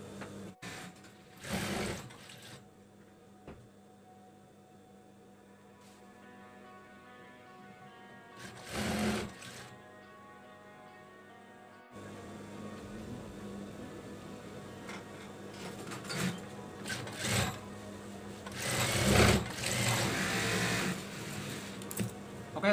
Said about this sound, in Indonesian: sekarang kita tinggal menjahit si rumbainya